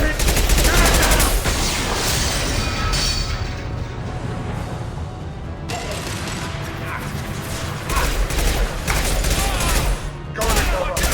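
Gunfire in the video game Mass Effect 2 as a fuel tank is shot down: rapid bursts of shots and mechanical clatter, loud and sustained with brief lulls, under faint background voices.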